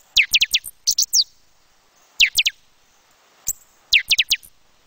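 Buffy-fronted seedeaters (pixoxó) sing in Nova Friburgo, Brazil, in loud, close bursts of quick, sweeping whistled notes separated by brief pauses, with no other sounds around them.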